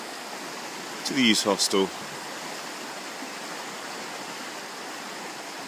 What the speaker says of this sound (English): you can hear this beautiful stream just below me